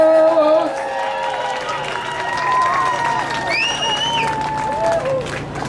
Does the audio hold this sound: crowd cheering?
yes